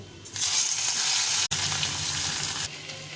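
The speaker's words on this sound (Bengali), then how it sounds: "মাছগুলো ভেজে নেব।" Raikhor river fish hit hot oil with a sudden burst of bright sizzling that holds steady for a couple of seconds before dropping off. It sounds close and clear, with no one talking.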